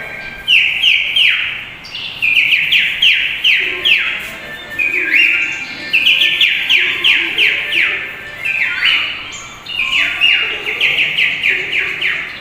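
A performer at a comedy show for orphaned children imitates a parrot with his voice, giving loud, bright chirping whistles in quick rising bursts. The bursts repeat in rhythmic clusters throughout, with no speech.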